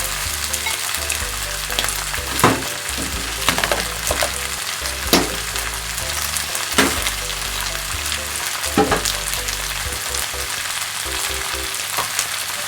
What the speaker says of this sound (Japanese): 玉ねぎとウインナーソーセージの薄っぺらな輪切りと真っ赤なトマトケチャップで炒める